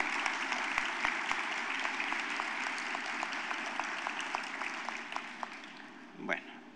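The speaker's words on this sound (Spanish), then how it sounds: "Yo creo que él merece un mínimo reconocimiento y un aplauso de parte de toda la concurrencia." Audience applause at a formal lecture, a broad even wash of clapping from a large crowd, slightly distant and sustained, with a louder bump near the end.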